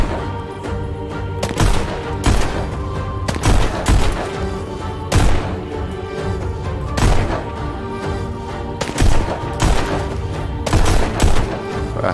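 Rapid bursts of virtual gunfire from the VR rhythm shooter Pistol Whip, loud, punchy shots recurring in clusters over a steady game soundtrack throughout.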